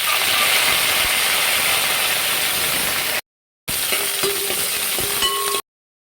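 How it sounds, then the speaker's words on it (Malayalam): Curry leaves and dried red chillies sizzle in hot oil as a loud, even hiss close by, cut by two brief silent gaps, with faint spoon clinks in the second part. "പിന്നെ കറിവേപ്പില ഇട്ട് കൊടുക്കാം."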